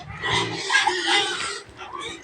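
Pigs in a pen grunt and oink in a low, rough cluster of overlapping calls, close by and fairly loud, over a couple of seconds.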